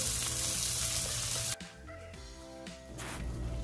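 Vegetables sautéing in a pan make a loud, bright sizzle that cuts off suddenly after a second and a half, leaving softer crackling and light stirring noises.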